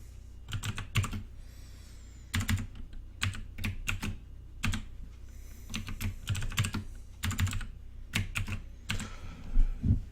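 An email and password are typed on a computer keyboard in close, crisp bursts of rapid key clicks, separated by short pauses, with no talking.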